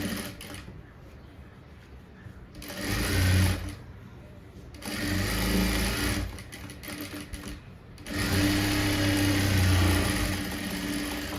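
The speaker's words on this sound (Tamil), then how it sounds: "இப்போ வந்து இதில் எட்ஜில் தையல் போட்டுடலாம்." Sewing machine running in bursts as it stitches along the edge of a blouse, several loud whirring runs separated by pauses, close and clear with no voices over it.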